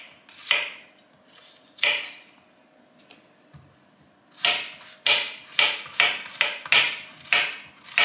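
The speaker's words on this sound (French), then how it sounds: "je suis en train de couper tous mes légumes" Vegetables, including red cabbage, chives, garden onions and beetroot, chopped on a cutting board: a few spaced knife strikes, then a quicker steady run of crisp, close chops, with no talk.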